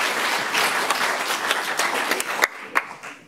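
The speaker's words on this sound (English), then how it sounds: "Big applause for Guno Jones" Audience applause at a university talk in Amsterdam as a speaker walks to the stage, steady clapping from a crowd that thins into a few scattered, distinct claps near the end.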